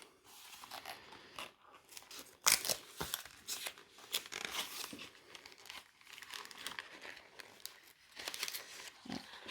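Panini sticker packets are torn open by hand, the plastic wrappers crinkling and crackling close up in irregular bursts with sharp tearing snaps and no talking.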